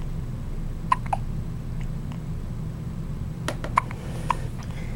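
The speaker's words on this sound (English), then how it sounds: "You both have the hiccups." Small hiccups from young children come as several short, sharp clicks spread unevenly over a few seconds, near and fairly clear above a steady low background hum.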